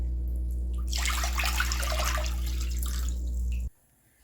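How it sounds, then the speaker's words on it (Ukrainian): Tap water runs steadily into a saucepan for a few seconds, a close, continuous splashing pour over a low hum before it cuts off abruptly. "В кастрюлю наливаю воду та відправляю на вогонь для закипання"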